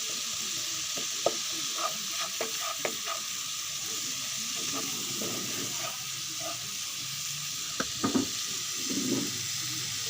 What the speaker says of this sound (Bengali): মশলাগুলো একটু ভেজে কষিয়ে নেব।